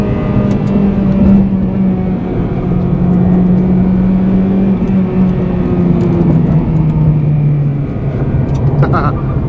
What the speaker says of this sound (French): Honda, ça prend les tours à plein pouvoir